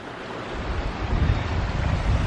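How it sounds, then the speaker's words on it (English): Water rushes at a stream crossing on a forest trail, a steady close wash that swells louder after the first half second, mixed with some wind buffeting, and no talk. "All this water, water, water."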